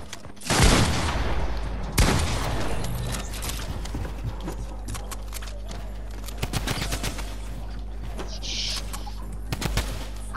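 Rapid bursts of gunfire in a Fortnite match, with a sharp opening volley followed by repeated shots and short automatic bursts that stay up close and loud throughout.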